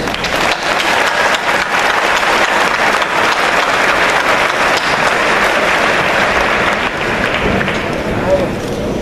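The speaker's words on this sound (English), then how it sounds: "Please join me in thanking them with a big round of applause" Sustained loud applause from a large crowd at a university graduation, dense steady clapping that continues throughout without pause.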